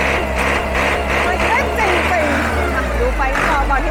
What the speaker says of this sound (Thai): เร่งเครื่องนิดนึง